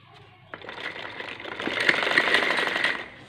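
A sewing machine stitches a homemade foam cover, starting abruptly after a quiet moment and running in a steady close whirring buzz for a few seconds before slowing to a stop.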